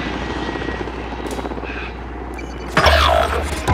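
Continuous helicopter rotor drone with a low engine hum in Call of Duty Modern Warfare Warzone, steady throughout, swelling louder and closer near the end with a burst of game-like impact noise.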